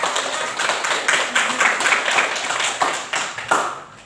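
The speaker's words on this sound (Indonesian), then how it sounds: "Beri tepuk tangan." A classroom of students bursts into dense, continuous clapping that holds for the full stretch, close and fairly loud, with a few brighter individual claps poking through.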